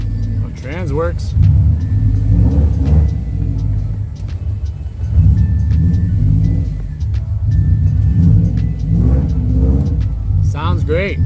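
A 2002 car on its first drive after repair, its engine rumbling and revving up through gears, loud and close from inside, with people talking over it throughout.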